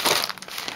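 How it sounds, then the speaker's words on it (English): A scrapbooking collection pack being opened, giving close, continuous crinkly rustling of plastic and paper packaging that surges early and then continues in irregular bursts. "rustling."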